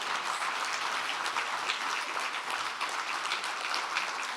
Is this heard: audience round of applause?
yes